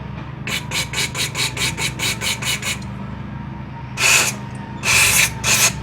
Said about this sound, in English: I will spray these little passageways as well.